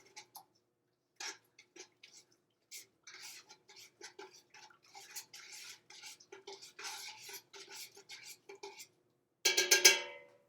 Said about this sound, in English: I'm going to make sure that I stir it.